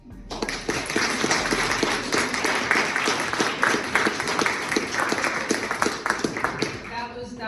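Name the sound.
audience applause and clapping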